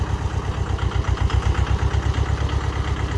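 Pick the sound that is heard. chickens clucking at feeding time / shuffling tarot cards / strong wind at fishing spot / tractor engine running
tractor engine running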